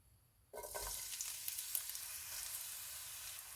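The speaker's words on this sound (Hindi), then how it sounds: "पैन में ऑयल डालेंगे। ऑयल गर्म हो गया, इसमें ग्रीन प्याज का वाइट पार्ट डालेंगे।" After a brief quiet moment, a sudden loud sizzle erupts as the white part of green onions hits hot oil in a pan, continuing as steady crackling frying close by.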